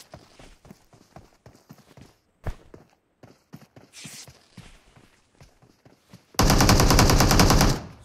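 A sustained burst of rapid automatic gunfire from PUBG Mobile erupts near the end, preceded by scattered clicks, taps and footstep-like sounds.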